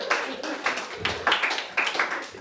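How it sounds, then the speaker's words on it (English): Applause from a comedy club audience in New York follows a comedian's set as a thin, uneven patter of a few hands clapping, fairly quiet, with some voices mixed in. "Clap it up for Geoff, everybody"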